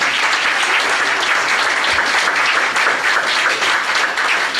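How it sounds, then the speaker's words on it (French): Loud, dense applause from an audience welcoming people at a gathering, a continuous wash of clapping at even strength from start to finish. "Est-ce qu'on peut leur donner une bonne main d'applaudissement?"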